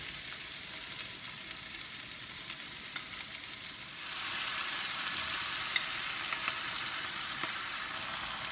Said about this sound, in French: Et maintenant, je mets la sauce tomate dessus.